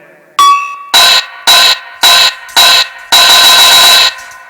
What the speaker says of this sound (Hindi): नूपुरों की आवाज छम छम हो रही है